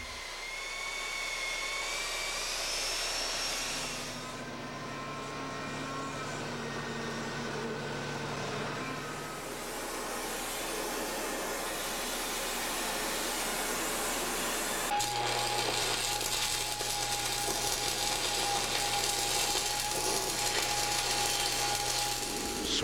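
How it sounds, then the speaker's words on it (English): Boiler tube and flue holes being bored and reamed in a steam locomotive boiler shop, a steady high whining machining drone with tonal bands that shift partway through, continuous and fairly loud, with no talking. "the holes for the tubes and flues have to be precisely bored and reamed"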